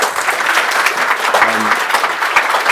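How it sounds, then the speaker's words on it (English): Audience applause from a crowd at a Q&A talk, steady clapping throughout at a moderate level with no voices over it. "So can we give June a big round of applause, please?"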